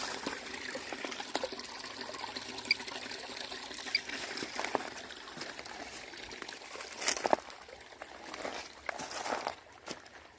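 Water trickles and dribbles over rocks in a mountain creek bed in Tennessee, a faint steady babble heard alone, with a few soft footstep-like scuffs near the end.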